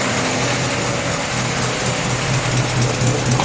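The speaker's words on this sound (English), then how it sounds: "now I've got an idling Iron Duke and a 62 CJ-3B, and man, is this thing quiet" An Iron Duke engine swapped into a 1962 Jeep CJ-3B idles close by with a steady, even drone and no talking.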